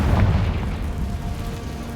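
A Confringo fire-blast spell in a Harry Potter video game bursts as a heavy, booming explosion, loudest at the start and then rumbling and fading slowly over two seconds, with no voices.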